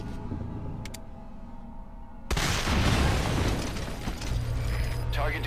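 An explosion destroys an anti-air target in Metal Gear Solid V: Ground Zeroes, a sudden loud blast after a quiet stretch with mechanical clicks, followed by a roaring, rumbling tail and radio voices.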